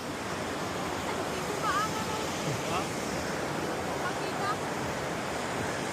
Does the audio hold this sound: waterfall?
yes